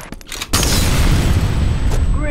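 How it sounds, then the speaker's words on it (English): Grenade explosion in the shooter game F.E.A.R.: a sharp, loud blast after half a second, then a long roaring rumble with debris that holds steady to the end, with some voice-like sounds early on. "Grenade!"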